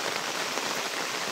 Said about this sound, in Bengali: দেখুন বন্ধুরা কি পরিমাণে বৃষ্টি